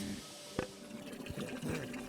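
Water running and filling through a connected pipe in the game Samorost 3, a soft continuous trickle and gurgle with a small splash or pop early on, moderately quiet throughout.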